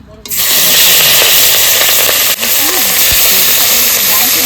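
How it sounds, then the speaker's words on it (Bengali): Fish fries in hot oil in a kadai (wok), giving a loud, steady sizzle and hiss that lasts throughout, with faint speech in the background. "মাছটা ভেজে নেবো"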